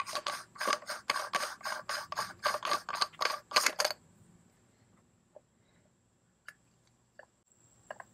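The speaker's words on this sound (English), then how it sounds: "now we do the normal sort of disassembly of the flashlight by unscrewing" Rapid rasping, gritty scraping bursts from a flashlight's threaded body being unscrewed for disassembly, about a dozen quick close strokes over four seconds, then quiet with a faint steady whine and occasional small clicks.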